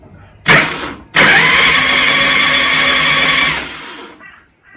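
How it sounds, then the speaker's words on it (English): A car engine cranks after a starter solenoid repair: a short starter burst, a pause, then a loud second crank that catches and runs steadily for a few seconds before cutting off. "We have ignition."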